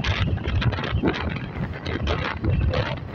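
Strong wind buffets the microphone on the Padma Bridge, a steady, loud, roaring rush that fills the whole moment without pause and with no voices.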